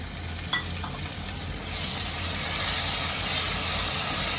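Tomato puree hits a hot pan of tempered spices for Khandeshi brinjal bharit. A brief clatter comes first, then a loud, broad sizzle that swells and keeps hissing steadily, close by.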